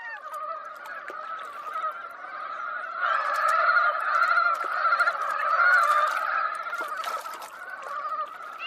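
A flock of ducks keeps up a dense, continuous chorus of honking and squeaky calls, growing busier midway, with no other sounds.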